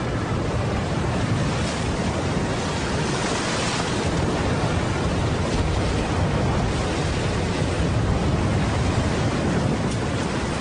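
Stormy sea waves driven by a typhoon roar in a constant, dense wash of surf and wind noise, loud and unbroken throughout with no voices.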